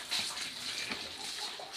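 Water poured into a mushroom-growing substrate mixed with lime milk made from construction lime gives a steady, fairly quiet gushing and splashing that runs without a break for a couple of seconds, with no voices.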